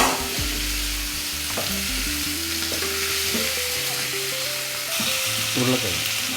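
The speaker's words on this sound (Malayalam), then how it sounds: "ഞാൻ ഈ കിഴങ്ങൂടെ അങ്ങ് ഇടാൻ പോവാണ്." Potatoes sautéed in a pan of oil for a Kerala-style chicken stew, giving a steady close sizzle throughout, broken by repeated scraping stirs of a spoon against the pan.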